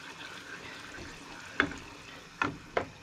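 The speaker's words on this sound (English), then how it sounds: "Add your pepper, stir that in" A spoon stirs pepper into a sauce in a pan, giving three sharp scraping clinks against the metal over a faint simmering hiss, close and otherwise quiet.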